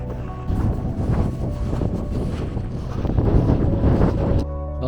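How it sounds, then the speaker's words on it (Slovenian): Strong wind gusting across snowy mountain terrain during a snowshoe outing, a steady loud roar buffeting the microphone with surging gusts and no voices. "Ni glih idealno vreme, danes piha"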